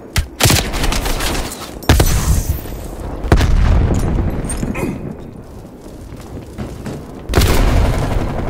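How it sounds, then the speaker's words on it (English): Call of Duty: Black Ops Cold War multiplayer, a frag grenade blast among heavy gunfire, with several sharp booming bursts and rattling shots spaced across the scene, loud and close, with faint in-game voices. "Throwing frag."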